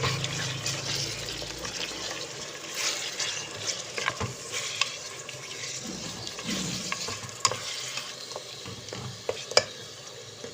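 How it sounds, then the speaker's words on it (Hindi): Mutton being stirred and mixed in a cooking pot, with a soft wet sizzle underneath and scattered scraping and clinking knocks of the spoon against the pot at irregular intervals. "अब इसे अच्छी तरीके से मिक्स करके"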